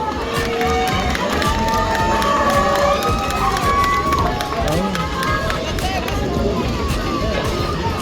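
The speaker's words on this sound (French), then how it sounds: "on applaudit l'accessoiriste" A convention audience applauds and cheers for the prop maker, a dense, steady roar of crowd noise and clapping that stays loud and unbroken throughout, with voices mixed into the din.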